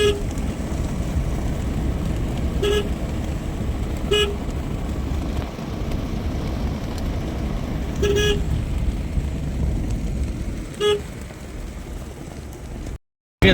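Traffic rushes past a small tea stall beside a highway, a constant loud roar of vehicles broken by several short car horn toots spaced a few seconds apart.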